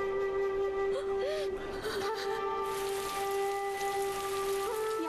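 Steady rain falls and patters on surfaces outdoors, a continuous wash of sound running throughout with a low steady tone beneath it and brief breathy vocal sounds early on.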